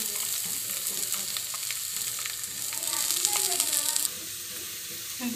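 Sliced onions sizzle steadily in a hot pan for a Gobi Manchurian, a continuous bright frying hiss with occasional stirring scrapes, close and fairly even throughout.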